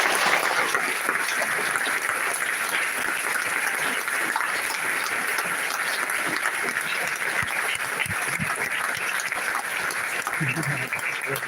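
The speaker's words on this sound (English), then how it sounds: "should we start by giving them a big hand now?" Graduation ceremony crowd at Lancaster University claps in a long, continuous roar of applause, sustained and fairly distant-sounding, with no pause across the stretch.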